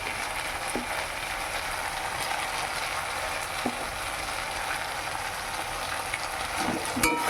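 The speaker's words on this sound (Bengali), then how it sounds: "এটাকে ভালো করে একটু কষিয়ে নেব মশলাটা কষছে" Spice masala with salt and turmeric frying in a pan, a steady soft hiss throughout with a few light clicks of stirring, close and without speech.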